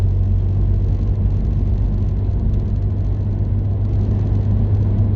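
Ford Mondeo Mk3 estate engine idling to warm up before an MOT, a steady low rumble holding an even drone throughout, close and loud with no talk over it.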